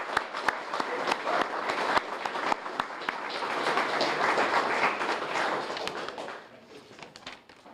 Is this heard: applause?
yes